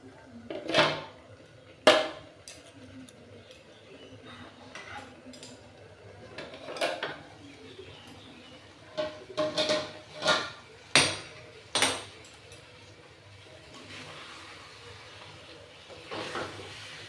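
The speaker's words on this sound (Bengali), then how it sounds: "দেখুন আমি এরপর আবার ঢাকাটা খুলছি।" A metal lid comes off and clatters on a cooking pot of raw mango Kashmiri pickle, giving sharp, scattered clanks and knocks over a soft steady hiss in a home kitchen.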